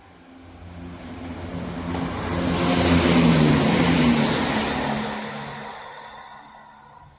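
A train engine turbo-starts at a station, a loud rising roar with a rough, throbbing low drone that builds to a peak midway and then fades away.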